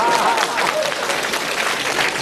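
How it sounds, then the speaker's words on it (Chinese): An audience at a 2011 Buddhist gathering in Melbourne bursts into loud, dense applause that fills the whole moment, with some voices mixed into the clapping. "说对了，鼓掌啊！"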